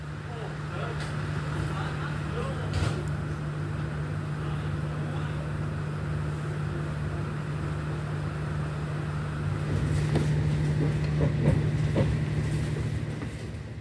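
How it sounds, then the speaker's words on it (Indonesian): The Progo passenger train, running from Lempuyangan to Pasar Senen, idles at the station with a steady low engine drone, while faint clanks and bumps scatter over it and grow busier toward the end. "itu adalah kereta api Progo dari Lempuyangan, tujuan akhir Pasar Senen"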